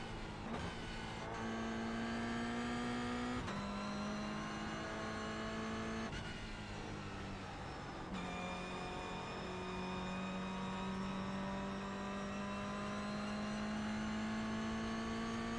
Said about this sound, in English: this car sounds really good. Even though it's not very fast,